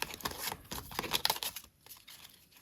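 Printed savings challenge cards are shuffled by hand, producing brisk papery rustling and crinkling in quick bursts, close and fairly loud, then quieter handling toward the end.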